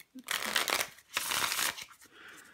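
A deck of 1995-96 NHL Aces playing cards being shuffled: two quick riffling bursts of papery flutter close by, separated by a brief pause, with a faint soft tap at the start.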